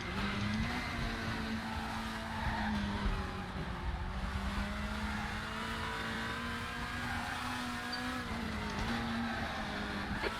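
A WTCC17 Volvo race car in the Raceroom sim at the Salzburgring holds a loud, steady engine drone whose pitch climbs slowly as it revs out, with tyre and road noise underneath and no break throughout.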